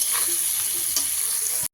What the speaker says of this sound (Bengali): পেঁয়াজগুলোকে একটু মেরুন করে ভেজে নেব